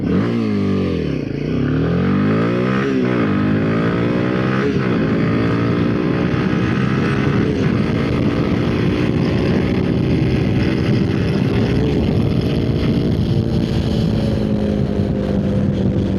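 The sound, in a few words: Royal Enfield Himalayan motorcycle accelerating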